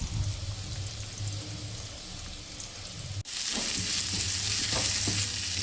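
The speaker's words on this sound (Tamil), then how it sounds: "வெங்காயத்தை நல்லா பரட்டி விடுவோம்." Sliced onions sizzle in hot oil in a pan for a duck curry, with a steady frying hiss and scraping stir strokes that grow louder after a brief pause.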